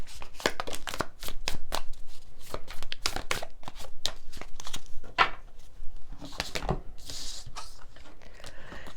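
Tarot cards being shuffled by hand in a rapid stream of crisp riffling flicks and slaps, close and fairly loud, with brief pauses and no talking.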